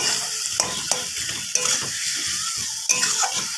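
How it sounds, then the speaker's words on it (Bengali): Already-fried potatoes are stir-fried with spices in a pan for a spicy bele fish curry, a steady close sizzle punctuated by sharp spatula knocks and scrapes against the metal. "এবার ভেজে রাখা আলুগুলো দিয়ে দেবো, দিয়ে একটু কষিয়ে নেব।"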